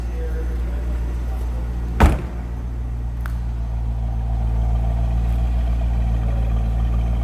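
Stock-exhaust 1998 Chevrolet Corvette Convertible Pace Car engine idling steadily at moderate level, with a single sharp knock or thump partway through and a faint engine drone continuing behind it.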